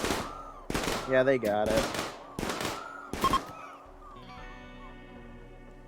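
Gunfire from the video game RimWorld comes in several short, sharp bursts at moderate distance, mixed in with a person talking over the gameplay.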